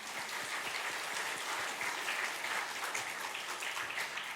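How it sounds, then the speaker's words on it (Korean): Steady congregational applause from a church worship service, a dense, even wash of clapping that holds at a constant level throughout without any talking. "우리 여성들을 위해서 격려의 박수 한번 보내주세요"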